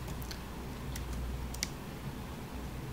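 Quiet clicks of typing on a computer keyboard, a few scattered keystrokes at close range over a low background hum, with no talking.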